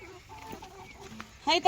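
Chickens cluck softly and intermittently nearby, with a louder burst of clucking near the end.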